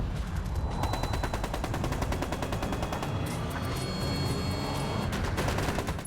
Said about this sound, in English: He leads his men towards a row of enemy pillboxes that are spitting out deadly fire.